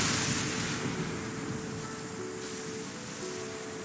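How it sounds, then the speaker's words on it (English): Steady rain pours in the video game Genshin Impact, a dense, even hiss of falling water with a faint sustained musical tone underneath. "I'm used to the rain, but you should probably use an umbrella."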